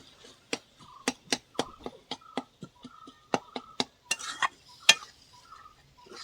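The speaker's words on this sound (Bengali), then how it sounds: "এবার ভালো করে আরও একটু ভেজে নেব, যাতে করে মাছের কাঁচা গন্ধটা চলে যায়।" A spatula scrapes and taps through a ground rohu fish mixture as it stir-fries in a pan: sharp, fairly close strikes in an uneven rhythm, with only a faint sizzle underneath and no talk.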